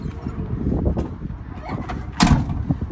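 A truck door worked during a pre-trip circle check, with scattered handling clunks followed by a sharp, loud slam near the end.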